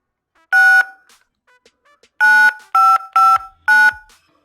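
A 1994 Nokia C16 bag phone sounds keypad beeps, one tone followed by four more in quick succession, each loud, clear and steady, separated by near silence.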